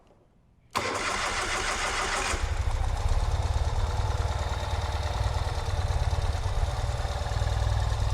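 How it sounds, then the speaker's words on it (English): Brand-new 2021 Ural Gear Up motorcycle cold-starts after a moment of quiet, the starter cranking briefly before the engine catches and settles into a loud, steady, throbbing idle up close. "And let's hear it. Let's start up the bike."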